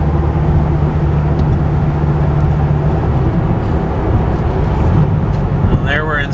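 A 2008 Dodge Viper SRT-10 cruising in sixth gear at about 60 mph and roughly 1100 RPM, a steady low engine drone and road rumble filling the cabin.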